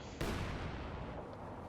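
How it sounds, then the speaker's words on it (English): Mortar fire in the real-time strategy game Company of Heroes 2: one sharp, heavy blast hits suddenly and then rolls off into a long, dull rumbling decay, with no voices. "And mortar closing in on Veteran 3 steadily."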